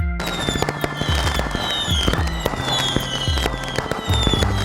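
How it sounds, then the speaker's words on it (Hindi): Rapid New Year fireworks going off continuously: sharp crackling bursts and booming pops, with whistling rockets rising overhead, loud and dense throughout. "वो तीनों शहर के बीचों बीच आतिशबाजी करने के लिए मौजूद थे"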